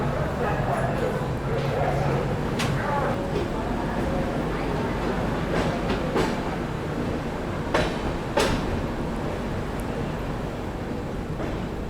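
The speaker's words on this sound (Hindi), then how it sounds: "अपनी गाड़ी निकल चुकी है आसनसोल जंक्शन रेलवे स्टेशन से" Vibhuti Express pulling out of platform 4 at Asansol Junction on a green signal, a steady rumble of rolling wagons with occasional sharp clanks and clacks, loud and close, with voices talking over it.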